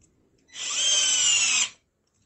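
A Deli 3.6V cordless screwdriver set to torque level 1 drives a screw in a single close, loud whir lasting just over a second, with silence before and after.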